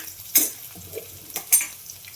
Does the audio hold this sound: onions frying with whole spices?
yes